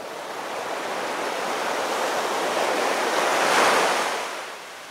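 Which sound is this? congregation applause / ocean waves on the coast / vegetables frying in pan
ocean waves on the coast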